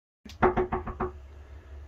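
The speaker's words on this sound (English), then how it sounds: "Somebody's knocking on the door." Someone knocks on a door: a quick run of about five firm, close knocks, with no talking, then a fading room tone.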